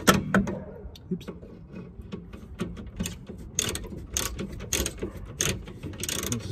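A ratchet fitted with an impact socket turns a fastener during work on a Nissan Micra K11, giving off bursts of quick, close metallic clicks with pauses between strokes.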